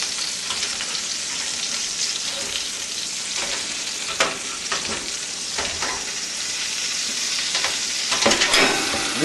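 Beef tenderloin sizzling and crackling in a hot pan after being flipped, a continuous bright fry with occasional louder spits and pops, close up with no talking.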